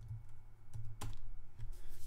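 Keys clatter on a computer keyboard as a word is entered into a homemade medical program, a few quick clustered taps with one sharper strike near the middle, close and clear with no talking.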